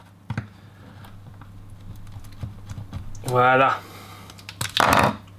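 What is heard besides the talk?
cutting Haribo strawberry gummy candy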